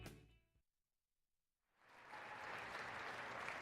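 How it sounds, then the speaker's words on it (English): A smattering of applause from the crowd at a women's college basketball game, MSU Moorhead against St. Cloud State, swells in after a near-silent pause and holds steady to the end. "Before this smattering of applause, you could hear a pin drop in Nemzik."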